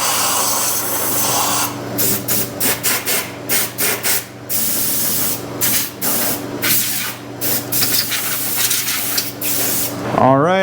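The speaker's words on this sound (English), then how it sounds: "I'm going to grab some compressed air real quick." Compressed air blasts into a bolt hole on a 2002-2007 Jeep Liberty during rear shock replacement, coming as a string of loud, rapid hissing bursts with short gaps, close and up front, with a brief squeal near the end.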